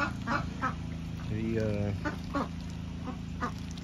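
Ducks quack in a muddy backyard pen, several short nasal calls close by with a longer rasping quack in the middle, while a person talks quietly over them.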